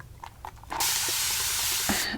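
A salon shampoo sink's hand sprayer bursts on and runs water in a loud, steady hiss for over a second, after a few soft handling taps and clicks.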